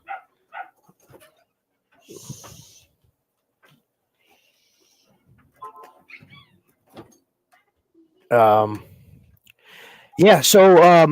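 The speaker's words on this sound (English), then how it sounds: "Could probably hear my dogs." Dogs bark and yelp in short bursts, loud and close near the end, with scattered quieter noises and a person speaking earlier.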